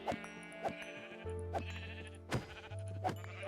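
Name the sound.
sheep bleating from spawner in Minecraft video game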